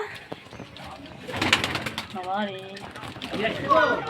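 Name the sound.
pigeons cooing at a pigeon house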